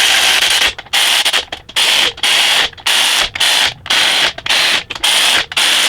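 A ratchet wrench running down engine bolts during reassembly of a Jeep JK 4BT diesel swap, loud rapid clicking in repeated bursts of about half a second separated by brief pauses, close and alone.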